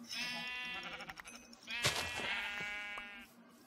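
Sheep bleat repeatedly in quick succession in Minecraft, loud wavering cries with brief clicks and thumps between them, like game sound effects.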